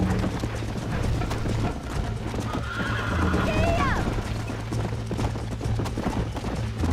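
A horse in the video game Red Dead Redemption gallops with rapid clip-clop hoofbeats and lets out a sharp whinny partway through, over a busy game mix with a steady low hum.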